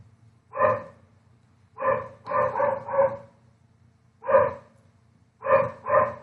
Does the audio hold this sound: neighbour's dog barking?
yes